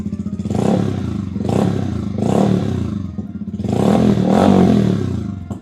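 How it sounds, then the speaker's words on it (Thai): Yamaha YZF-R15 sport motorcycle, 2022/23, with an oddly shaped aftermarket exhaust, starts and revs up loudly close by in repeated throaty bursts, its idle rumbling between blips. "เราฟังเสียงท่อแต่งกันหน่อยดีกว่านะฮะ ท่อทรงแปลกมากนะฮะแต่เสียงเอาเรื่องเลยนะ"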